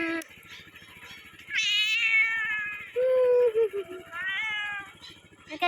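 A cat meows repeatedly in a rural jungle village, several drawn-out, rising and falling calls close by, with a person imitating the meows between them.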